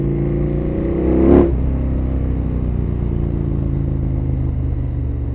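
A KTM 1290 motorcycle idles with a steady low engine drone, one quick throttle blip rising and falling in the middle before settling back to a constant idle.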